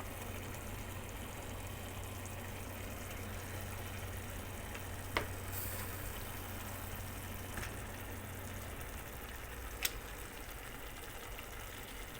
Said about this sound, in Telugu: కొద్ది మసాలా వేగిన తర్వాత ఇలా ముక్కలు వేసేసుకోవాలి